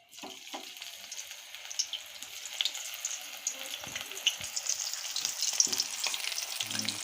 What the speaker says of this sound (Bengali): এবারে ফুলকপিগুলোকে তেলে ছাড়া হচ্ছে